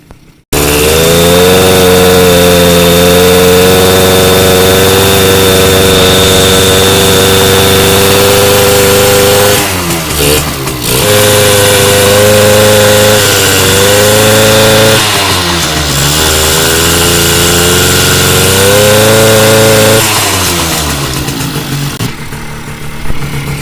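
A Suzuki Samurai two-stroke motorcycle engine runs loud and close with a buzzing, raspy drone, rising and falling in a few brief revs before settling back to a steady idle.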